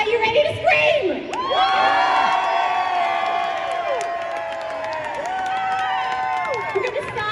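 A crowd at an anti-abortion protest screams, whoops and cheers in one sustained burst of many overlapping voices, loud and close, with high shrill shouts rising above the roar.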